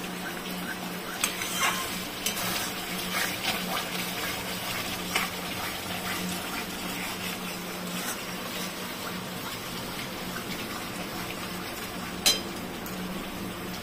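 Spice paste fries in a pan for dahi potol, a steady low sizzle broken by repeated scrapes and taps of a spoon stirring, with one sharper clink near the end and no talking.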